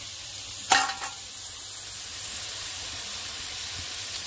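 Ginger-garlic paste hits a hot pan with a sharp burst of sizzle, then settles into a soft, steady frying hiss close by.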